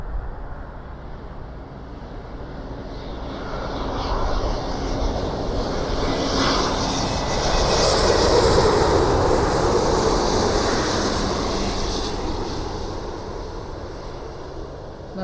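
Ethiopian Airlines Airbus A350 jet at Toronto Pearson airport, a loud broad engine roar that swells to a peak midway and then slowly fades, with people talking faintly at times.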